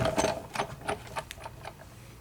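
Embossing folder cranked through a Sizzix Big Shot die-cutting machine, fitting a little tight: a quiet run of rhythmic clicking ratchet ticks, several per second, close and steady, fading slightly toward the end.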